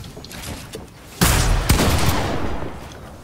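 Loud, close gunfire blasts in the video game Fortnite, a sudden heavy burst followed by a second sharp shot, then a sustained noisy rumble fading slowly, heard without talking.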